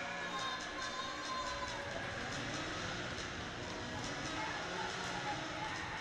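At a SUNY Fredonia men's ice hockey game, the arena crowd roars steadily after an early goal. It sounds distant and diffuse beneath a commentator talking over it.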